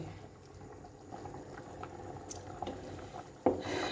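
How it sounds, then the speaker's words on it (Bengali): Rice for khichuri boiling in an open pot, a soft steady bubbling and light popping, quiet and close, with a brief clatter near the end. "দেখি তো চাল ফুটছে নাকি"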